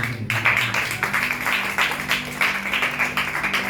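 A church congregation claps together in steady, fairly loud applause that swells and fades in waves, with a low hum in the background.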